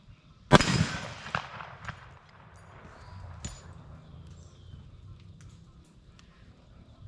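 A .500 JRH Magnum Research BFR revolver fires one loud, sharp shot followed by a fainter second report and a decaying outdoor echo, with quiet background afterward.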